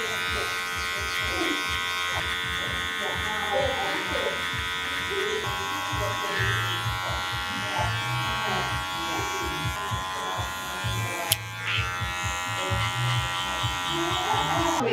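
Electric hair clippers on a number one guard cutting a fade: a steady close buzz running throughout, with someone talking over it.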